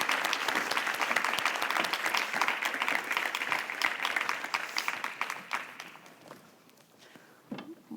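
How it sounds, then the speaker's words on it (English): Applause from a forum audience for mayors walking up to the stage: dense sustained clapping that fades out over several seconds, leaving a few scattered claps and faint room noise. "Let's give them a round of applause while they make their way up here."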